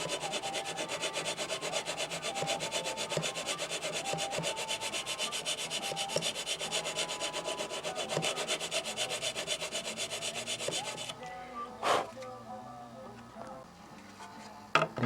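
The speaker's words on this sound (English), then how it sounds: "grind 2 little notches in there" Two small notches are ground into material for a 90 tank fitting, a continuous close rasping that stops near the end, followed by a few sharp knocks.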